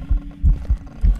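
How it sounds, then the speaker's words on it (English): Ghost humming in the horror game Phasmophobia, a low, faint pulsing drone that throbs in four soft beats, close and muffled, with no talk over it. "It's humming."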